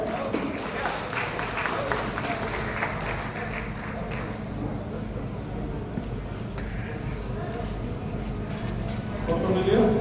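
Applause from the audience at a Kurmi community conference in Kaimganj, a dense, sustained wash of clapping from a crowded hall that runs the whole time and swells slightly near the end.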